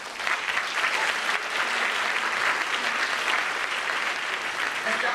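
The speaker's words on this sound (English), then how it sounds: "parents, I'd like for you to give yourselves a round of applause" Parents at a school honors ceremony applaud in a steady, dense round of clapping that fills the room at full strength from start to finish.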